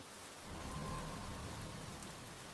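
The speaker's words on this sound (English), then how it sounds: "Yes, it is a light rain." Light rain falling outdoors near a street, heard as a steady, soft broadband hiss that swells slightly after the first half second and holds evenly throughout, fairly quiet and with no voices.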